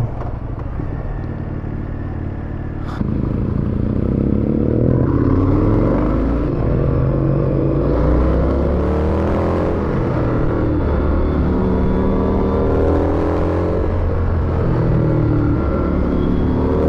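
A motorcycle engine roars steadily while riding through Patagonia, a loud continuous rumble that swells as the throttle opens, close and alone without talk.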